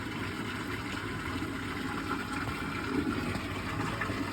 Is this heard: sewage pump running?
yes